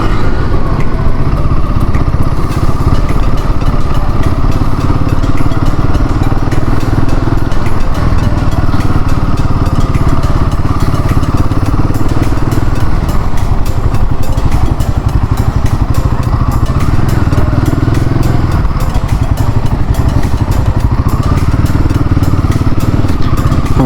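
Motorbikes ride along a hill-station road with a steady, loud engine drone and rumble that holds throughout, mixed with wind buffeting and road clatter.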